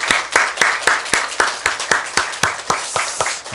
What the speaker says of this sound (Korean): 우리 이 시간에 한번 좀 감사와 찬양의 박수 한번 올려드리셨으면 좋겠습니다